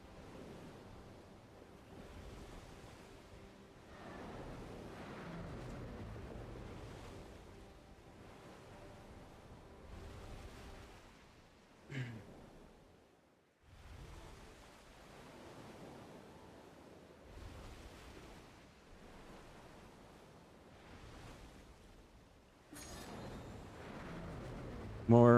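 Ocean waves wash steadily while a boat sails in the Black Desert game, a soft continuous surf with swells rising and falling, some wind, and brief louder splashes near the middle and end.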